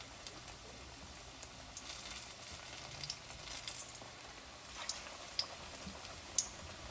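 Onion vada batter balls frying slowly in hot oil, a steady, faint sizzle with occasional small pops and crackles.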